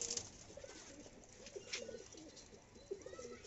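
Silver pigeons in a racing-pigeon loft coo softly in a low, repeated murmur, with a few faint chirps and rustles around them and no talking.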